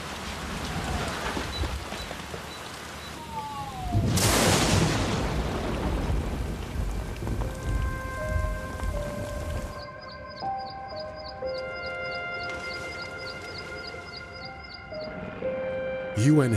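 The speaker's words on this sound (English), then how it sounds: "Rainy season has hit Malakal." Rainy-season downpour in Malakal, South Sudan: steady hissing rain with a loud burst partway through, then tonal beeps and electronic tones layered over the rain toward the end.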